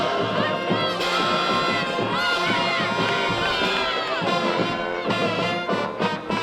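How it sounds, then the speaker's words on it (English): High school playoff football crowd at Flanagan High School, Deerfield Beach Bucks versus Flanagan Falcons, cheering and shouting loudly and continuously, with many young voices yelling in the stands. "Good crowd on hand here"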